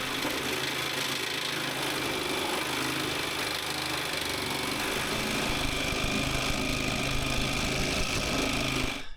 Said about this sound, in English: I've never cut through a bolt with a Sawzall.